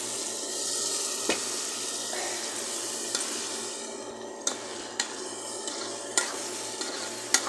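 Water is poured into a pan of sizzling chicken curry, a steady close hiss and bubbling with a few sharp clinks and scraping stirs of a utensil against the pan, no voices.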